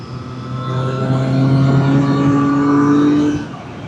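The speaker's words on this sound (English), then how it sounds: "This exhaust pipe seems to have opened up a little bit in the last few hundred miles." Triumph Street Triple 765RS motorcycle with an opened-up exhaust, revving in a steady, loud, close rising drone that holds for about three seconds before dropping away.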